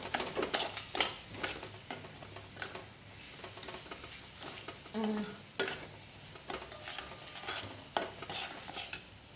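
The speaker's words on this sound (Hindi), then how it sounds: "और चीनी डाल के हम अच्छे से इसको भूनते हैं।" Khoya is roasted with sugar in a pan, a spoon stirring and scraping steadily with a soft sizzle underneath and occasional metallic clinks, close and continuous with no talk.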